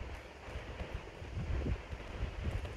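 Wind gusts blow outdoors during a yoga session, a soft rushing and buffeting on the microphone with low rumbling swells and no talking.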